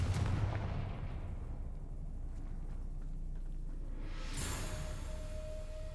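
Confringo blasting curse explosion in Hogwarts Legacy, a sharp, heavy boom at the start followed by a long, rumbling decay and a second whooshing burst near the end, fairly loud, no talking.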